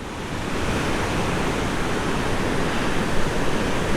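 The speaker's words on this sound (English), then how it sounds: "And that is the top of Twin Falls." Steady roar of Twin Falls waterfall and its creek in the Yoho Valley, a dense, continuous rush of falling water heard alone without voices.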